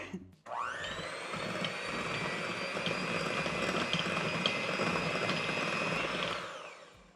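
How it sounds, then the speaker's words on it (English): A hand-held electric mixer beats chai cookie dough made with oil, its motor spinning up sharply and holding a steady, loud whirring drone for several seconds before winding down, close and alone. "Then we're gonna mix these together using an electric mixer."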